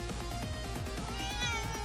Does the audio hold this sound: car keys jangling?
no